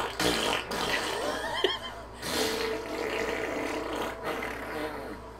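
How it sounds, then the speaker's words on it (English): A video game character's fart from Lunar: Silver Star Harmony, a few broken rasping bursts mixed with game music and effects, moderately loud. "He does realize that noise was just him farting that just scared him."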